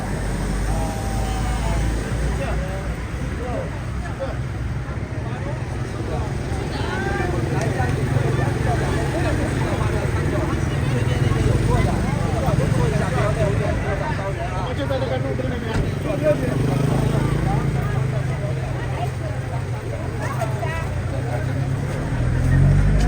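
Congested road traffic in Luang Prabang, with a steady rumble of engines and passing vehicles continuing throughout while someone talks over it nearby.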